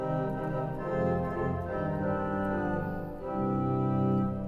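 Pipe organ in a large Washington DC church with 121 ranks, a terz stop drawn together with a 4-foot stop, sustaining steady bright chords that shift partway through, full and resonant with no voices.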